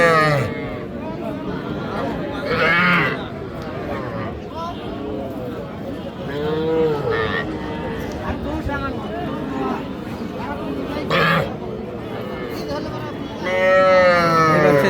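Bull calves and cattle crowd a livestock market at Aftabganj haat, with occasional lowing mixed into steady chatter from buyers and sellers talking throughout.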